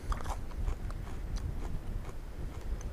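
Someone chews crunchy panko-breaded fried catfish at a lakeside truck cookout, giving steady close crackling bites and mastication with no talk over them.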